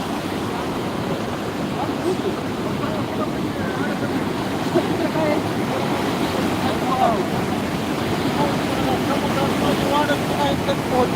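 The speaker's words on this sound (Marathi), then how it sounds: "भरपूर असं पाणी आलेलं आहे आपल्या आमच्या गावातील नदीला" A flooded village river, the Chandani at Sirsav, rushing in full spate, a constant broad roar of moving water mixed with wind buffeting, steady and fairly loud with voices in the background.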